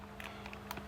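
Quick, faint taps on calculator keys as numbers are entered, a few soft clicks in close succession with no talking.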